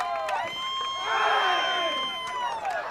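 A high school baseball crowd at a Spartans game cheers and shouts after a home run, a brief swelling roar of voices with higher children's shouts mixed in, heard from the field at moderate distance.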